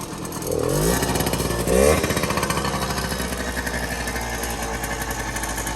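A Suzuki JR50 minibike's small engine running close by, a buzzing two-stroke rattle that revs up twice early on and then settles into a steady, raspy idle.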